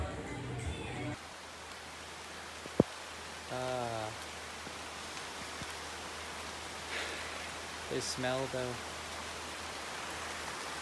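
Rain falls in Bali as a soft, steady hiss that runs through the whole clip, with a few brief spoken words over it.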